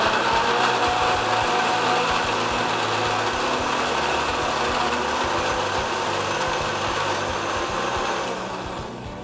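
A mixer grinder blends cut bananas for paniyaram batter, its motor a loud, steady, close whirring roar that runs without a break for about nine seconds and tapers slightly at the end, with no voices.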